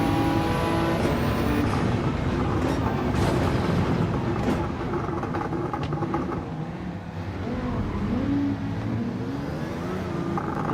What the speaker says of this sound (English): Suddenly we can hear the cars so much more now